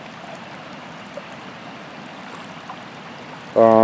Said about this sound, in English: It's a pretty good flow of water.